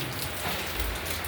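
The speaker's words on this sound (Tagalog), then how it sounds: "Kahit na umuulan" Steady rain drums on a hut during a super typhoon, a dense, even patter close by with no break.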